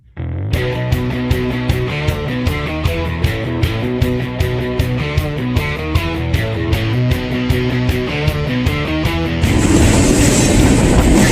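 A train rolls past with a steady, rhythmic clickety-clack of wheels over rail joints and a droning hum, then shifts into a louder rushing roar.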